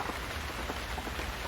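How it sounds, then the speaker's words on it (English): Cold rain falls in a continuous soft hiss with faint pattering on surfaces, fairly quiet and unbroken throughout, with no voices. "The cold rain continued like icy needles from the sky."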